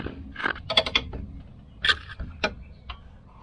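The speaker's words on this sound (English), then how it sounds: "Where the spanner's going on to now." A spanner works on a rear brake bolt of a Volvo 940 wagon, giving a few close metallic clicks and creaky ratcheting ticks in short irregular bursts with no talk.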